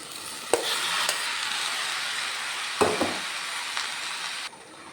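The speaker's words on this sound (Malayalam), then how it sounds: "ഇനി നമുക്ക് ഉടനെ തന്നെ വേവിച്ച് വെച്ചിരിക്കുന്ന പച്ചക്കറി ചേർത്ത് കൊടുക്കാം" Cooked vegetables for a thoran go into a pan on a very low flame, giving a steady soft sizzle with a few sharp clinks and knocks from the utensil, close and without talk.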